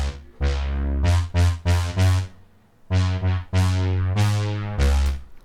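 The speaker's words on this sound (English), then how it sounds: "I brought in another bass sound which is a synth bass and it sounds like this." Synth bass layer in a pop music production, playing a rhythmic line of punchy, bright bass notes with bursts of high harmonics, loud and up front, alone with no talking.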